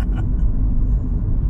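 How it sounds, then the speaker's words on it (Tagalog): Steady low road-traffic rumble of cars in a city street, continuous and fairly close, with no talking over it. "Traffic"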